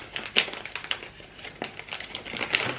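Crinkly plastic rustling and tearing in a run of short, close crackles and snaps as a package is opened, with no talking.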